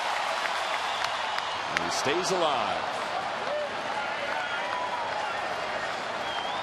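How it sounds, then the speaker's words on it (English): Sold-out baseball stadium crowd at a Washington at Philadelphia game, on its feet cheering and applauding with the bases loaded on a 3-2 count; a steady roar of noise fills the background under a commentator's voice. "Look at the crowd reacting here."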